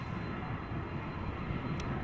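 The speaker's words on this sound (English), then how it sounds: "the first airplane of this stream is going to be a Boeing 767 from Icelandair going back to Reykjavik" Icelandair Boeing 767 airliner departing Amsterdam Schiphol Airport, a steady broad engine roar heard from beside the runway, loud and continuous without speech.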